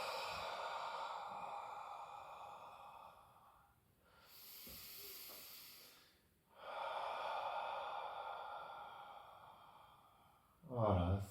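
A person breathes deeply during a slow exercise, with two long, close, airy breaths stretching several seconds each, separated by a quieter pause and ending on a short sharp intake.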